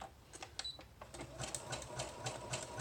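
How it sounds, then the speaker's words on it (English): A sewing machine stitches a zigzag seam across a journal cover, giving off a fast run of light mechanical clicks and thumps at a moderate distance, with no speech. "Now I'm going to sew down the Bible page here, and then I'm going to sew across here"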